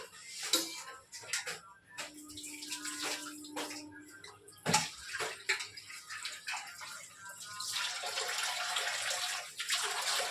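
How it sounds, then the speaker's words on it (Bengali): Lote fish (Bombay duck), soaked in vinegar water, being rinsed under running water: splashing and pouring from a tap with clinks of a bowl or pot, close and uneven, louder toward the end. "লোটা মাছটা ভিনিগার দিয়ে ভিজিয়ে রেখেছি জলে পনেরো কুড়ি মিনিট মতো ভিজিয়ে রেখেছি জলটা ফেলে ধুয়ে নেবো ভালো করে"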